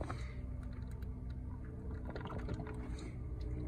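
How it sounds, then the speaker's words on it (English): Engine coolant from a Dodge Ram 6.7L Cummins splashes onto a garage floor during a thermostat job, a steady broadband trickle and slosh with scattered small clicks, close and continuous for the whole stretch. "I need to put something to catch that coolant that's going on the floor"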